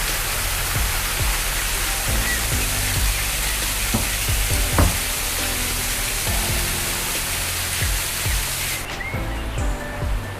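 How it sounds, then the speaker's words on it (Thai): A waterfall beside a forest stream cafe in Khao Yai, heard as a loud, constant rushing roar of water with occasional low thumps underneath, dropping off abruptly just before the end. "มีน้ำตกด้วย"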